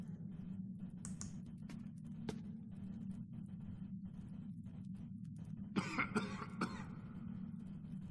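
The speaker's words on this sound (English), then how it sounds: "Please tell me that's you coughing." A person coughs a few times faintly in the background of a video game session, over a steady low hum with some keyboard clicking.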